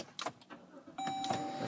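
A power window motor hums steadily in a 2011 Jeep Grand Cherokee Overland, a close, even whine that starts partway through after some faint cabin shuffling and runs to the end.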